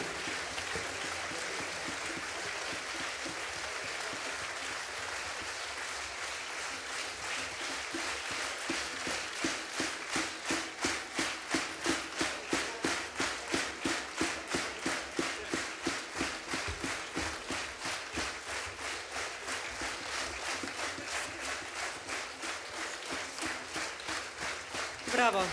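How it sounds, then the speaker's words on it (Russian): A concert hall audience applauds a Belarusian folk instrument orchestra, and the applause settles into steady rhythmic unison clapping in the middle before loosening again. The sound is sustained and moderately distant. "Эти аплодисменты только для вас."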